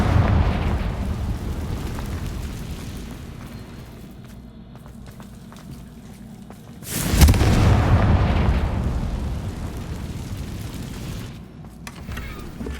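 A Confringo explosion spell goes off in Hogwarts Legacy with a deep, rumbling boom over a low game ambience, and a second sharp blast hits about halfway through before rolling away.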